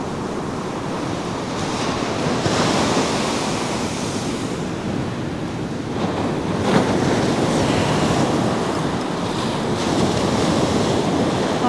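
Ocean surf rolls and breaks continuously on an Australian salmon-fishing beach at Elliston, a loud, steady wash with swelling crests and wind buffeting the microphone.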